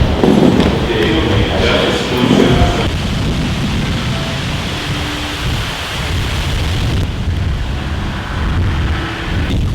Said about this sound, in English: Windy as fuck out here.